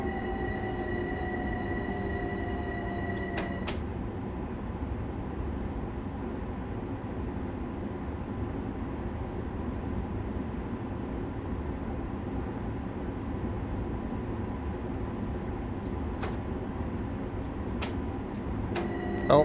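A Harlem Line train in Train Sim World 2 rumbles steadily while braking. A tonal whine sounds for the first few seconds, and a few faint clicks are heard later.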